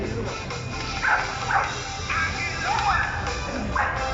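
A dog barks in sharp, repeated yaps at a dog high-jump show at the 2021 Sydney Royal Easter Show, amid outdoor crowd noise and background voices.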